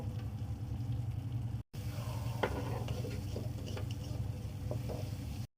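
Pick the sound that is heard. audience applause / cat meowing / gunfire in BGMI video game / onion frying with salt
onion frying with salt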